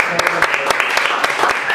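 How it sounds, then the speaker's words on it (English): Audience applause for a performer at an open-mic talent show, loud close clapping with distinct individual claps over a dense crowd wash, with voices mixed in. "a big round of applause for Keith."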